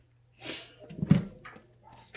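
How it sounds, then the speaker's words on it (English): A dog makes a few short, soft yips and whimpers, close by and quiet, with brief pauses between them. "Neighbor's doggos are barking."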